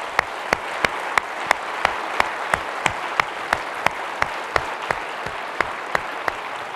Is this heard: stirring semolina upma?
no